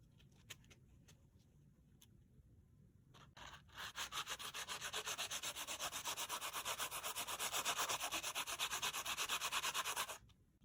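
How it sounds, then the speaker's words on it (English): Sanding block rubbed over raised embossing on black glossy cardstock, a faint tick or two and then rapid, steady back-and-forth scratchy strokes for about six seconds before stopping. "I simply used a sanding block to go over the raised area of the embossing on the black glossy cardstock."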